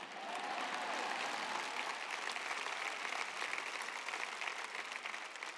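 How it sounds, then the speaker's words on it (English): Steady applause from a church audience, a dense, even patter of many hands clapping at moderate distance, continuous throughout with no pause. "Clap louder, will you?"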